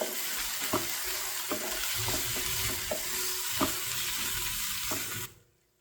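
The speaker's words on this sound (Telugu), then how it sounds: "ఇంట్లో ప్రిపేర్ చేసి పెట్టుకున్న అల్లం వెల్లుల్లి పేస్ట్ కూడా వేసుకొని పచ్చివాసన పోయేంత వరకు ఫ్రై చేసుకోవాలి" Ginger-garlic paste frying with onions in a pan for a drumstick masala gravy, a steady close sizzle broken by repeated stirring scrapes and knocks, ending abruptly.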